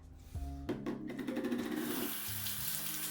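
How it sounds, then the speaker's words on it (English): Running tap water splashes continuously as a shaving brush and soap tub are rinsed under the faucet, with some rubbing and clatter mixed in, close and steady with no talk. "I'll rinse all this out before"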